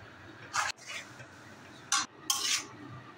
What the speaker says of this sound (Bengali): খুন্তির সাহায্যে ভালো করে নেড়ে চেড়ে সমস্তটা মিশিয়ে দিতে হবে